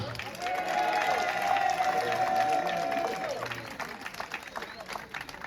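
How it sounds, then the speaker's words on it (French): Scattered applause and crowd noise from an audience at a municipal election campaign meeting, moderately loud at first, then thinning, with a voice and a tonal whistle-like sound over the start. "Est-ce qu'on peut applaudir Sabrina"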